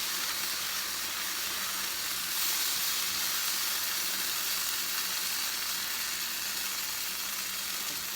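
Rice with mashed green banana stirred quickly in a hot pot for Puerto Rican arroz con gandules, a continuous soft sizzle and steamy hiss with faint scraping, steady and close throughout.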